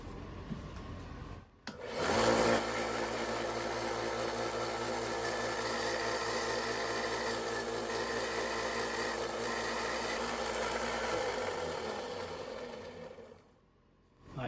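A grinder bears down on the broken tip of a vintage Schrade Old Timer 125OT pocketknife, a steady loud abrasive whine running unbroken for about ten seconds before trailing off.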